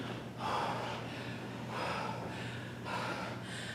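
Heavy, rhythmic breathing after burpees in a workout: three or four deep, breathy gasps about a second apart, close and fairly loud over a steady low hum.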